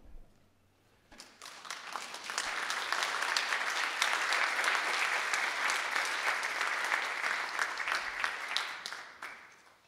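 An audience at a talk on capitalism applauds the board members, dense clapping swelling in after a second of quiet, holding steady and full for several seconds, then easing slightly, heard alone with no talk over it.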